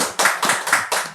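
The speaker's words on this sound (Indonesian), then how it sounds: "Tepuk tangan dulu boleh kali ya untuk bapak-bapak yang ada di sini." Rhythmic clapping for panel guests at a disaster-safe schools event, about five evenly spaced, sharp claps, close and fairly loud, with no voices.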